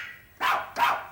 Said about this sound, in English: Ah, the obligatory dog.